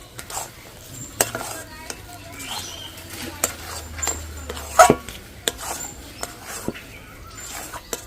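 Sandesh mixture with ghee being stirred in a pan, soft scraping strokes of a spoon at an uneven rhythm, close and fairly quiet, with a faint low hum beneath.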